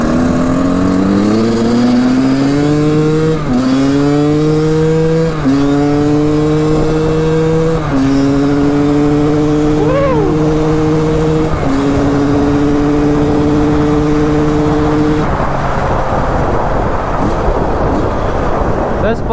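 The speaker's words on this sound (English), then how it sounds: "This bike is pretty dang fast." Kawasaki KX250 dirt bike engine revving hard while riding, climbing in pitch through repeated gear shifts and dropping off between them, loud and close throughout, with a voice briefly heard over it.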